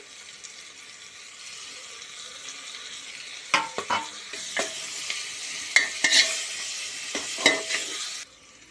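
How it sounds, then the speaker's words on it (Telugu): Mint leaves fry in hot oil for chicken pulao, a steady soft sizzle that grows busier as a spoon stirs through the pan, with several sharp scraping clacks in the second half before it cuts off. "పుదీనా కూడా నూనెలో మంచిగా ఫ్రై అవ్వాలి."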